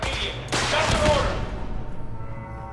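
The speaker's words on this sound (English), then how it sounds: "Gunshots everywhere." Gunfire from the video game Fallout 4: a burst of loud shots at about half a second, then a clattering, decaying fusillade that fades into a lingering tonal game ambience.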